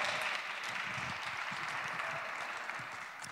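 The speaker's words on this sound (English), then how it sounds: "Yes, big applause." A conference audience at a gaming-industry event claps in a dense, steady burst of applause that holds loud throughout and eases slightly at the end.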